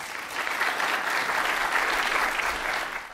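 An audience applauds steadily to welcome marine biologist Dr. Roger Anderson at a lecture, a dense even clapping from a seated crowd that fades slightly at the end.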